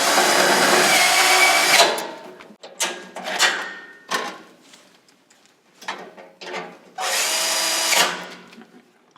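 A power drill drives silver bolts into a Weil-McLain SlimFit boiler frame, running in loud bursts of whirring with short pauses between, the longest runs at the start and near the end.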